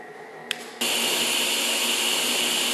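A cold wire feeder running continuous wire feed for TIG welding: after a faint hum and a short click, a loud, steady hissing drone starts abruptly and holds evenly to the end.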